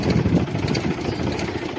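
A tractor engine idles with a steady low rumble, continuous and fairly close, with no voices over it.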